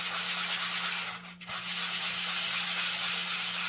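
Wooden sunflower edges are hand-sanded with a continuous close, loud rasping hiss that dips briefly once as the stroke changes, then resumes steadily with no talk.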